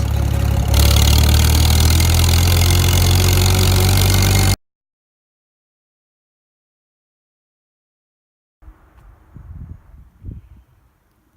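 A Farmall H tractor engine runs loud and steady at close range, then cuts to silence, followed by some faint, uneven rumbling and clatter.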